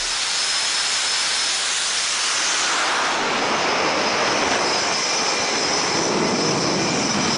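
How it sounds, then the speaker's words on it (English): Loud, sustained roar and hiss of a jet engine blasting from close range on an aircraft carrier deck, building in intensity and staying overwhelming throughout. "This guy got blasted by a jet while sitting behind it on an aircraft carrier."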